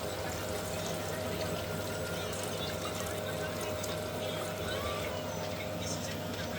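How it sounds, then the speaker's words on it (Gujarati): Water is poured over prawns cooking in a pan for a prawn and pomfret biryani, a steady broadband rush running the whole time at moderate level with a faint low hum beneath. "હવે પાણી નાખી દઈએ"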